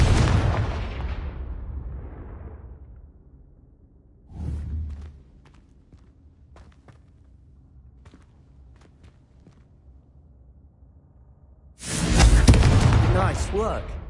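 A Confringo spell cast in a Harry Potter video game bursts into a loud, booming explosion that fades over a couple of seconds. Scattered footsteps follow, a second softer thump comes midway, and another big blast arrives near the end.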